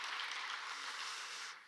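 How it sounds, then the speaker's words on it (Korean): Faint, distant applause from a church congregation during a Sunday sermon rustles as a steady hiss of many hands and tapers off at the end. "우리 박수 한번 하실까요?"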